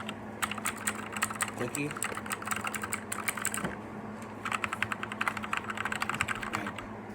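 Mechanical keyboard switches clatter under fast typing in two bursts with a short lull between, close and crisp, while a voice briefly speaks.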